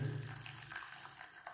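Water poured into a bowl of sliced onions, a short splashing gush that settles into a softer trickle, close and fairly quiet.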